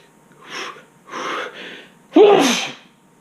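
A single person sneezes: a couple of sharp inhaled gasps build up, then one loud burst of sneeze, close and alone with no talking.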